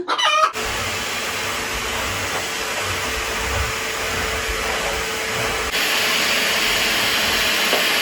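Chickens cluck and a rooster crows faintly in a village yard against a steady hissing background, with a brief rustle at the start.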